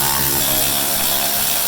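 A power tool runs steadily and loudly, taking out 10 mm bolts from the lower access panel of a Lexus UX 250h during an oil change, with a continuous dense whine and no pauses or talking.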